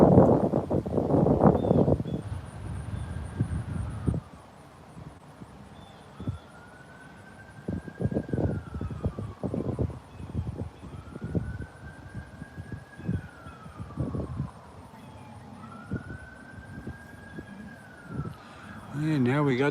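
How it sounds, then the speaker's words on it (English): An ambulance siren wails in repeated slow rising and falling sweeps at a moderate distance outdoors during a live fishing stream, with some bumps and brief talk early on. "And now we got the sirens."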